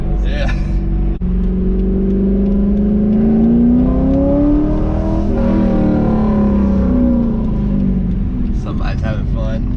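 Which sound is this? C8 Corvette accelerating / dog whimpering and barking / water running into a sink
C8 Corvette accelerating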